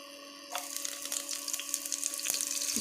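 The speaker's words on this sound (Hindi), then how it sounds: "इसको हम फ्राई करेंगे" Chopped prawns hit a hot pan with whole cumin and black and green cardamom, bursting into a steady close sizzle that holds for a couple of seconds.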